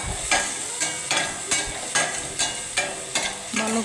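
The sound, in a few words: spices frying in hot oil on gas stove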